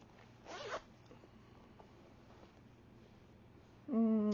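A zip pocket on a shirt is unzipped in a quick short zip, then after a quiet pause a second louder zip rasps briefly at the end, close and alone.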